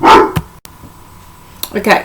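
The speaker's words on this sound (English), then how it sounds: "I'm so sorry about my dog." Several sharp barks from a dog in a home setting, loud and close, with a voice speaking briefly between and around them.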